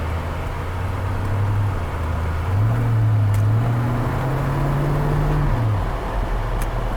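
A 1940 Ford car drives along with a steady low engine drone heard from inside, the pitch rising and settling as it shifts through gears smoothly, under faint road noise with no talking.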